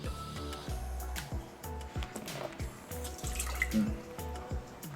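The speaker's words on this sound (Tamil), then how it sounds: "முதல்ல இந்த ஒரு கப் தண்ணி ஊற்றணும்" Water splashing and trickling as a cup of water is poured into a pot for mango jam, with irregular drips and gurgles over a steady running-liquid background.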